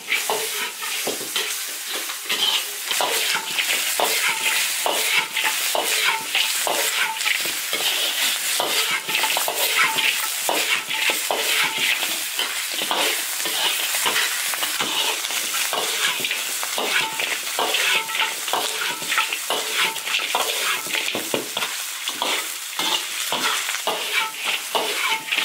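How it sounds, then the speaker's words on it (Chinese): Duck pieces stir-frying in a wok to cook off their moisture, a loud continuous sizzle with rhythmic scraping and stirring clatter from a spatula against the metal, close up and without speech. "鸭子煎干水分。"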